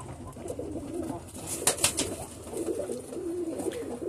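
Pigeons in a loft near the end of the breeding season coo softly and steadily, low murmuring calls layered under a constant background hiss with a few brief higher chirps.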